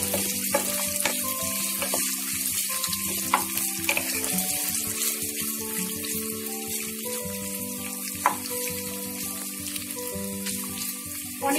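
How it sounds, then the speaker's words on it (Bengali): Paneer cubes frying in a pan over a spice tempering, with a continuous close sizzle and scattered scraping ticks from stirring, steady and without speech. "এবার আমি এর মধ্যে পনিরটা দিয়ে দিচ্ছি। পনিরটা দিয়ে একটু নাড়াচাড়া করে নিচ্ছি।"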